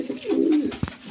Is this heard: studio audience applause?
no